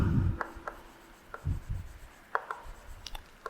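Pen or marker writing answers on a board during a biology class, heard as a string of short scratchy strokes, some clustered and some spaced apart, moderately close, with no voices.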